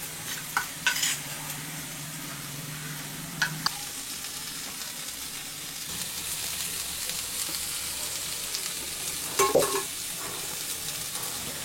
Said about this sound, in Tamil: கடலை மாவு போட்டதும் கைவிடாத கிண்டணும்.